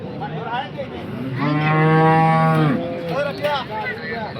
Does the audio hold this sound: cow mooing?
yes